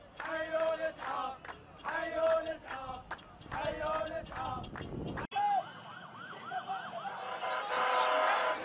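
An ambulance siren wails in a repeating rising-and-falling pattern amid street noise and crowd sounds, fairly close and loud, shifting to a faster warbling tone partway through.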